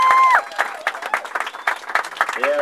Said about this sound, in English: Let's hear it for Alfie and Ralphie Bowling.